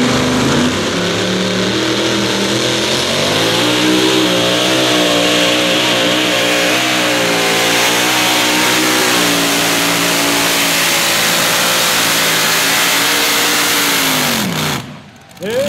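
A Ford tractor engine strains at a tractor pull, a loud, close, rising drone held at high revs for most of the run before cutting off abruptly near the end.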